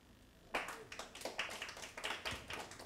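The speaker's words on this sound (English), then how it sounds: "Clap for Honorable Sabila Sarah" Applause from an audience at a climate change symposium, starting abruptly after a brief quiet and continuing as a sparse, uneven patter of claps from a modest crowd.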